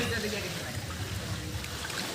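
Floodwater from a swollen village river rushes past in a steady, broad wash of noise with no breaks, heard alone and fairly close.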